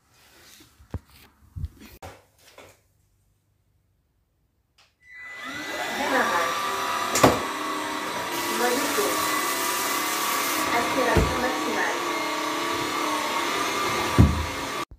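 Ezyclean steam vacuum cleaner switching on and running with a steady loud whine and hiss after a few seconds of quiet handling knocks, with occasional bumps over the continuous drone.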